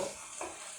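Beef keema being mixed in a pan with a spoon, giving a steady low sizzle broken by a couple of brief scraping stirs, close and moderately quiet with no talk.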